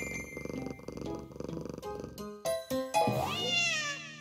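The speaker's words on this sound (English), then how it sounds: "But Gene is here. Meow, meow." Cat in the game Travis Strikes Again: No More Heroes, heard as a low purr, then several distinct meows rising in pitch, close and clear.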